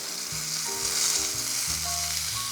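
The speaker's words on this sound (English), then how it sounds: "I'm gonna deglaze it with a little marsala wine." Sautéed mushrooms cooked with garlic, olive oil, parsley and rosemary sizzle steadily in a hot pan as marsala wine is added to deglaze, a loud continuous frying hiss with faint clinks and tones underneath.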